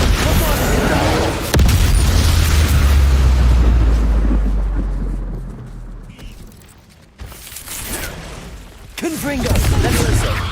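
Spell explosions from Bombarda casts in the video game Hogwarts Legacy, heavy booming blasts with rumbling low-end tails, several loud hits spaced across the scene alongside a speaking voice.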